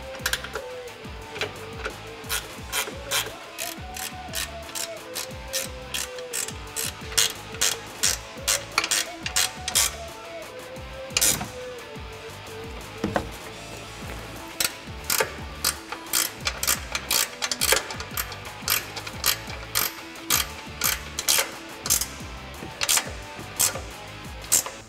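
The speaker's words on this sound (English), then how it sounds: "Now I'm going to take my 17 millimeter ratcheting wrench, tighten up our three nuts on top that we started." A 17 mm ratcheting wrench tightens three nuts on top of a 2009-2018 Ram 1500 front suspension housing during a leveling kit install, giving long runs of rapid, close metallic clicks with brief pauses between strokes.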